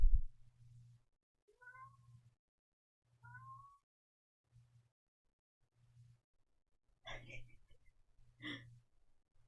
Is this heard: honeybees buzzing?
no